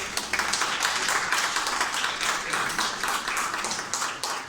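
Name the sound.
audience applause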